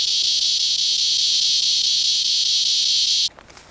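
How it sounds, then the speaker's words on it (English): Loud, steady high-pitched cicada buzz droning continuously outdoors, cutting off abruptly near the end, leaving faint rustling behind. "Except for that annoying cicada."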